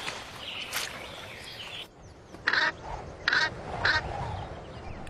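Brent geese migrating south from Arctic breeding grounds call in flight, a few short honking cries in separate bursts over a soft outdoor background.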